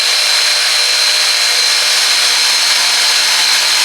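Parkside Performance PPSTK 550 A1 jigsaw with a 550-watt motor cutting steadily, a loud continuous buzzing saw noise with a high whine, heard alone with no pauses.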